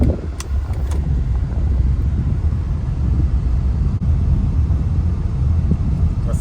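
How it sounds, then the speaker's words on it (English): A 2010-2013 Acura ZDX driving on the road: a steady, loud low rumble of engine and tyre noise fills the whole stretch with little change, heard from inside the cabin. "we'll start driving"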